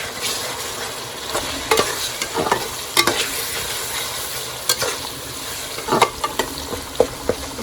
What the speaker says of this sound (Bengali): আর এখানে দিয়ে মাছ ভাজা হইতেছে